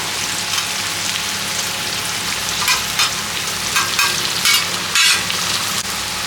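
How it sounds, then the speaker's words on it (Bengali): Cashews and raisins fry together in oil on a tawa for mixed fried rice, giving a loud, steady crackling sizzle with brief stirring scrapes, close by and with no voices. "কাজু আর কিশমিশ ভাজবো, একসাথে দুটো দিয়ে দেবো"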